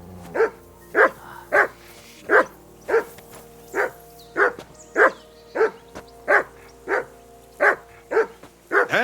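A dog in Kingdom Come Deliverance 2 barks persistently and close by, with around fifteen evenly spaced, loud barks coming one after another with little else heard.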